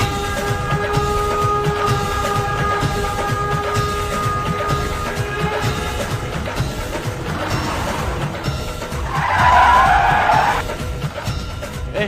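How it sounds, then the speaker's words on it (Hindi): A vehicle skids to a stop in a 2007 Hindi comedy film scene, a harsh rising scrape and squeal swelling briefly over a constant loud rumbling engine and rolling noise. "ओ गाड़ी रुक गई।"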